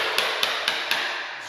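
A hammer taps a screwdriver wedged behind baseboard trim during a room remodel: four sharp, evenly spaced knocks, close and clear over a steady background hiss.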